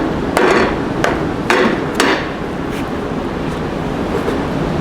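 Hammer blows break apart a hot sand casting mold, with four sharp metallic strikes in the first two seconds over a loud, steady roar of background noise, then only fainter taps.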